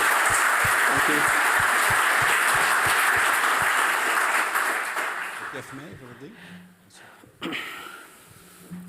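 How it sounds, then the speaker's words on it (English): Audience applause at the close of a lecture at a medical research symposium, dense and steady for about five seconds, then thinning out and fading into scattered claps, with a voice speaking near the end. "So we owe you a great round of applause"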